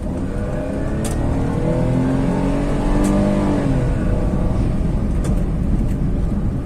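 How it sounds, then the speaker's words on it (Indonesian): A Honda Jazz VTEC automatic with a four-speed gearbox accelerates at full throttle, its engine note rising steadily in a strong sustained drone from inside the car, with a couple of faint clicks. "Jadi di gaspol gitu cuman 40 ke 60 gitu sih. Tarikannya berat."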